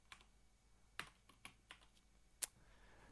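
Keystrokes on a computer keyboard while entering a network address, a few sharp clicks spread unevenly over quiet room tone, one louder tap near the end.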